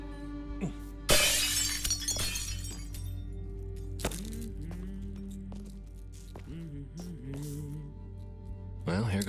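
Glass shatters loudly in the video game Arctic Awakening: one sudden crash with a spray of bright, tinkling fragments, then quieter footsteps and scattered small clatters.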